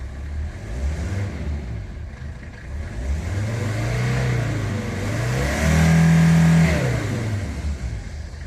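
A 1983 Mercedes 300SD diesel engine with fuel delivery problems revs up and down in uneven surges, its pitch climbing and falling in several sweeps, loud and close, with no talking.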